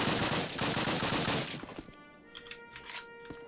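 Sustained machine gun fire in Call of Duty, a loud rapid stream of shots for about a second and a half that cuts off, leaving scattered lighter cracks and clatter.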